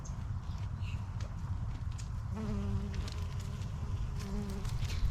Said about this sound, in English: oh look, there's a bee